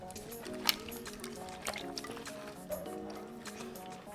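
Vinegar and water for a pork adobo marinade are stirred together, making soft sloshing and squishing liquid sounds with small splashes, quiet and close.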